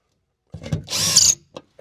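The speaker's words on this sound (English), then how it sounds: "we're going to start out by just putting 3 screws into this to hold it into place" Cordless power driver running screws into aluminum ceiling furring in a Ford Transit van, a short whirring burst with a brief lead-in and a quick tail, close and loud.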